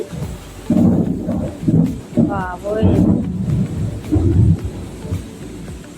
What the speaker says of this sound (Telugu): ఉరుములు చాలా గట్టిగా ఉన్నాయండి మొత్తం మీద ఎక్కడో పిడుగు పడద్దు ఈరోజు చాలా తీవ్రంగా ఉంది వర్షం